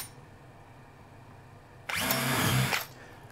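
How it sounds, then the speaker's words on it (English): A power drill bores into a melamine cabinet panel in one short, loud whirring burst of under a second that rises out of a quiet room and then spins down. "All I have to do is just sit the drill and slide it around till it feels the little punch that I've done."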